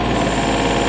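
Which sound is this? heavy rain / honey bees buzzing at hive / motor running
motor running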